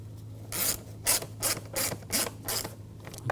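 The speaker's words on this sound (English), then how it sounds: "put the air box down in place, and we'll tighten up all these screws" A ratcheting tool tightens the air box screws on a 2011-2018 Volkswagen Jetta 2.0L after an air filter change, with close, rapid clicking bursts repeated in short strokes and no talk.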